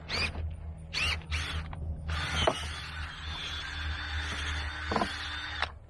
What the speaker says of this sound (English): So I'm gonna take my auger.